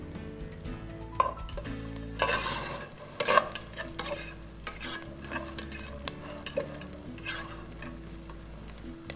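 Food sautéing in a pan with a small splash of oil, a light sizzle broken by stirring scrapes and the clink of a utensil against the pan, with a few louder bursts.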